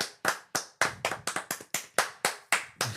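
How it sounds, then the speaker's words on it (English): A round of applause at an awards-style talk event, heard as a short series of about a dozen sharp, evenly spaced claps, loud and close, with no voices. "Round of applause."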